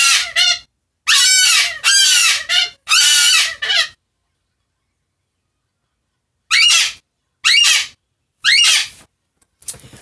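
A pet bird squawks loudly and shrilly at close range in harsh bursts. One cluster of three calls comes first, then a quiet pause, then several more scattered squawks.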